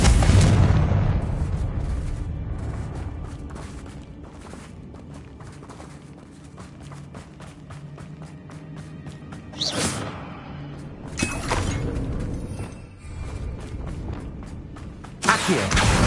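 Confringo blasting spell from a Harry Potter video game: a sharp explosive burst opens, then several more booming blasts follow later over a low rumbling game ambience.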